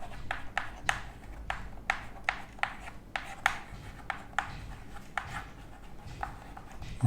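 Chalk or marker strokes on a board while numbers are written out, a steady run of short, sharp scratchy taps at an irregular rhythm, close and fairly quiet over faint room noise.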